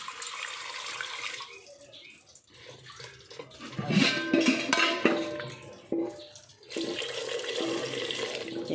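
Water is poured into a pressure cooker holding bananas and a potato, a splashing gush that swells midway then trails off, with a hiss of running water before and after.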